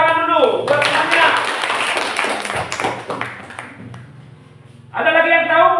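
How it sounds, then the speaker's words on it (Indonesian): Students in a classroom clap together in a dense burst of applause lasting about four seconds, with a teacher's voice speaking before and after it. "Tepuk tangan dulu buat semuanya."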